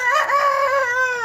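Free-range native chickens in a breeding coop give one short, sustained, crow-like call, close and clear against a quiet background.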